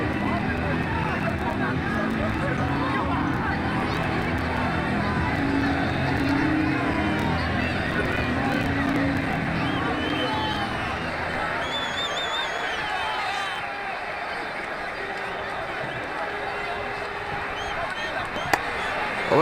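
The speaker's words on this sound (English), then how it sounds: "Just listen to the crowd." Crowd at a cricket match in a T20 World Cup cricket video game cheers a six: a continuous broad roar and babble that swells early, then eases into a lower, steady hum.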